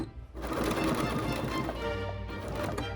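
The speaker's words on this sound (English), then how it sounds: "I'm just gonna go right on the point of this little keyhole and just do a little miter stitch" A sewing machine stitches a short forward-and-back miter at the point of a keyhole opening on a blouse, its steady motor whir running continuously and close by with no talk.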